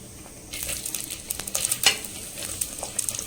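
Onions frying in a clay pot: after a quiet start, a light sizzle sets in, broken by irregular scraping and tapping stirs close by.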